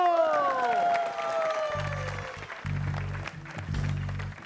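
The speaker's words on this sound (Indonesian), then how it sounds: "kasih tepuk tangan dulu" A comedy television studio audience applauds and cheers after a joke. The clapping is moderately loud and continuous, with a sliding musical sound effect at the start and low-pitched stinger tones underneath.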